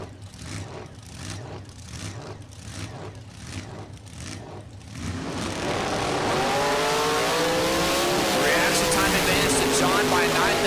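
A 1968 Chevy Camaro with a 540-cubic-inch engine and a 1957 Fairlane drag racing, rhythmic engine pulses building into a sustained loud roar as the cars launch, with an announcer talking throughout.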